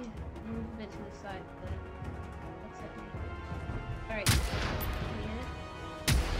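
Gunfire in the video game Generation Zero, with two sharp, loud shots about two seconds apart rising over a steady game background, while someone talks over the action.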